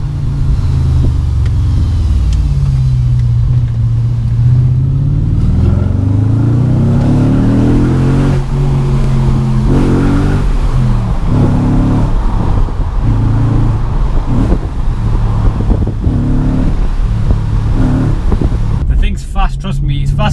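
An Audi RS4 B7 drops a gear and its engine revs hard, pitch climbing and falling through several loud, close surges as the car pulls, with a driver's voice mixed in.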